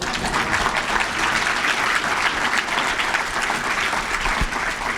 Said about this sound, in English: So now you can applaud.